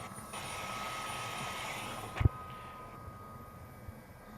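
A news helicopter's turbine whines down toward idle after landing, heard through headset audio, with a brief thump midway and the whine then fading lower.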